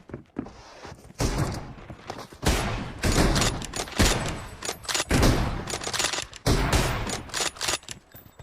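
Gunfire in a shooting video game, with repeated bursts of loud, close, rapid shots in clustered volleys separated by brief pauses.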